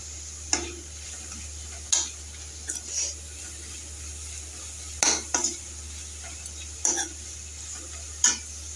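A spoon stirs potato fry in a pan as turmeric goes in, giving a handful of sharp, sparse metallic scrapes and clinks over a steady low hum and faint sizzle, with no talking.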